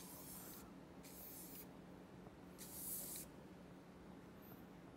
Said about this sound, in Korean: 그냥 가볍게 스프레이로만 고정을 시켜주시는 게